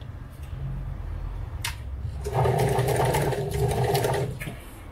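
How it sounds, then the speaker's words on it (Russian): A sewing machine stitches binding onto a patchwork quilt, starting with a soft low hum before breaking into a louder, steady rapid run that lasts about two seconds and then stops. "Закончили строчку."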